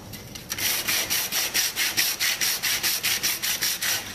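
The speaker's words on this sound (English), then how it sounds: "you're going to sand your name off" Wooden pieces are sanded by hand at a table in steady, rhythmic back-and-forth strokes, about four per second, each a close, raspy scrape, with no talking.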